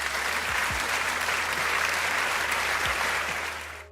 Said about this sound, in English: So can we give him a bigger round of applause